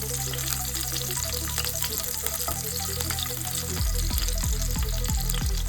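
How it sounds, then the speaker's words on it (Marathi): Garlic and curry leaves crackle and spit loudly in hot oil for a dried ribbon fish curry, a dense close sizzle with a low rumble beneath that grows heavier near the end, no one speaking. "तेल चांगलं गरम झालेलं आहे आता मी टाकणार आहे लसूण आणि कढीपत्ता"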